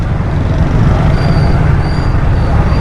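Jammed traffic on a Karachi street near the Saddar mobile market road gives a loud, close, continuous rumble of engines and road noise with no talk.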